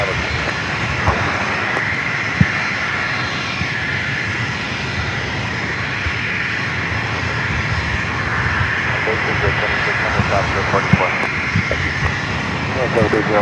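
A brand new Embraer Phenom 300E business jet departs San Diego airport, its engine a loud, steady roar that builds slightly toward the end, while a voice talks over it.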